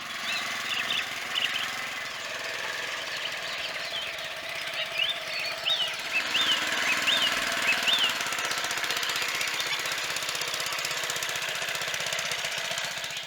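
A petrol motor drives a Cambodian bamboo train cart along abandoned rail tracks through a belt to the axles, giving a continuous rattling, knocking engine drone with wind-like rush and clatter throughout, steady and fairly loud.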